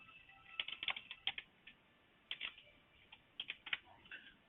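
Someone types a product name on a computer keyboard, quiet clusters of quick key clicks in short bursts with pauses between, close but faint, no talking over it.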